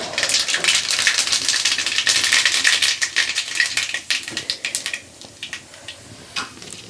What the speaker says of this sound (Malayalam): നമുക്ക് അതിലോട്ട് കടുകിടാം.